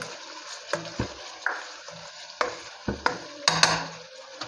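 Chicken karahi with fenugreek frying in a pan, with a soft continuous sizzle broken by several sharp, loud scrapes and clanks of stirring at irregular intervals, close by.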